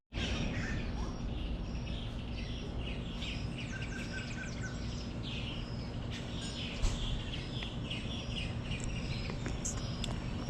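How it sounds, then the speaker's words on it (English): Many birds chirp and sing continuously in Brazil, overlapping calls at moderate distance over a steady background hum, with no talking. "You hear all those birds?"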